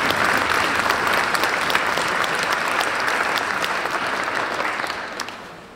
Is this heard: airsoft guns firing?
no